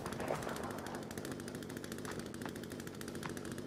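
Rapid gunfire from a flintlock pistol in The Forest survival game, several sharp cracks in close succession over a dense, busy game soundscape with a steady low rumble.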